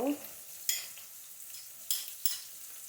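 Chopped onion frying in white oil, a quiet steady sizzle broken by a few sharp stirring scrapes in the pan.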